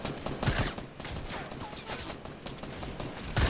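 Rapid Fortnite gunfire rattles in repeated bursts across the whole stretch, fairly loud, with faint game sounds in between and no clear talk.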